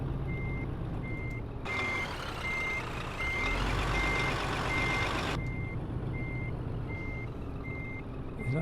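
A heavy truck backs up with a 24-ton trailer in Euro Truck Simulator 2, steady reversing beeps pulsing evenly over a low engine drone, with a louder rushing swell partway through.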